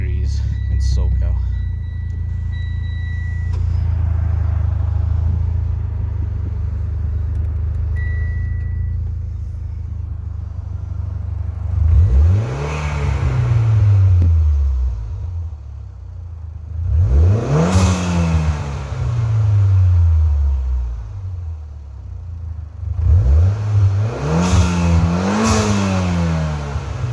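A Mitsubishi Lancer X fitted with a K&N Typhoon intake revs hard three times while stationary, each sweep climbing near 7,000 rpm and dropping back to a loud, close idle rumble with intake whoosh.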